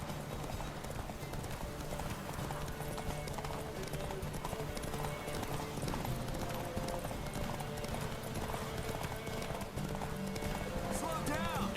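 Geralt's horse Roach gallops in The Witcher 3 with rapid, rhythmic clip-clop hoofbeats over continuous game ambience and music, a brief whinny, and character voices talking over the running.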